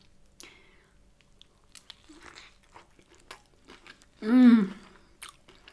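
Loaded breakfast brioche bagel with egg and mushrooms being bitten and chewed close to the mic, with soft crunchy mouth noises across the clip and a loud hummed murmur of enjoyment near the end.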